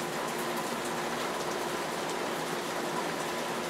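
Rain pours steadily through a leaky roof, a dense continuous hiss of drops spattering nearby surfaces with no pauses and no voices.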